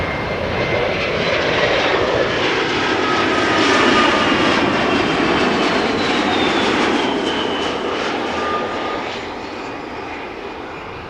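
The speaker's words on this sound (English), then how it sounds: "Embraer 175 arriving from Bristol." An Embraer 175 jet roars steadily with a high whine as it approaches and passes arriving at Amsterdam Schiphol Airport, loud and sustained before gradually fading.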